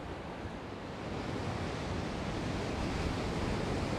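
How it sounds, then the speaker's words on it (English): Atlantic surf on the rocky Azores coast, a broad, constant wash of waves breaking close by, steady and hissing with a light wind mixed in. "And as you can hear the ocean just behind me."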